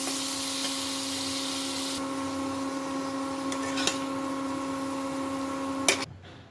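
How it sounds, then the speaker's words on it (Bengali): An electric kitchen mixer grinds fried pointed gourd into a smooth paste, giving a steady, loud, high-pitched motor whine that holds for about six seconds before cutting off sharply. "আমি এইভাবে পটলটাকে মিক্সিতে পেস্ট করে নিয়েছি।"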